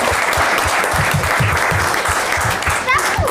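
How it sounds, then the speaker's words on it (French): A school quiz-show audience gives a steady round of applause, dense clapping held for a few seconds with a rhythmic thumping underneath and a brief squeak near the end. "On vous applaudit."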